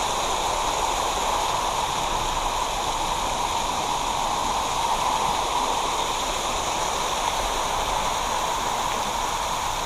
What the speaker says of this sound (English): Wall of water.